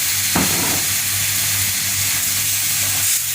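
Chicken drops into a pan of sizzling masala for a Sri Lankan chicken peratal, setting off a loud burst of hiss and steam that settles into a strong, steady sizzle, with no talking.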